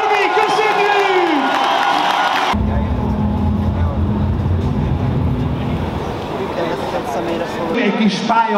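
A packed arena crowd at a Hungarian enduro show cheers and shouts loudly and continuously, a dense roar of voices that swells and holds with no break.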